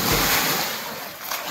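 A person jumps into an open well while swimming, throwing up a big splash; a brief loud rush of churning water, close and alone.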